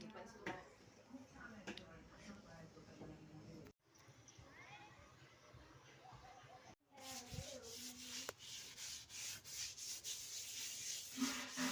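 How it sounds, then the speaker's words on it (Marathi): A dirty board is scrubbed clean by hand, giving repeated rough rubbing strokes that vary in intensity, fairly close, with someone speaking over parts of it. "आपलं हे बोर्ड सुद्धा एवढं खराब झालेलं होतं त्याला पूर्ण घासून टाकलं"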